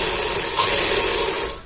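Sewing machine stitching a hanging seam on trousers, a close, steady mechanical whir and rapid clatter running continuously before cutting off at the end, with no speech.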